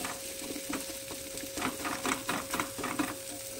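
Egg is stirred and scrambled in a hot frying pan for fried rice, a soft sizzle beneath quick rhythmic scraping strokes of a spatula that grow busier and louder midway, close up with no voices.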